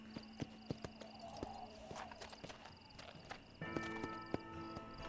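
Horse hooves clip-clop steadily at a walk in the Western video game Red Dead Redemption, sharp repeated taps over a busy game soundscape of ambient noise and music, with the hoofbeats thinning and a tonal layer entering near the end.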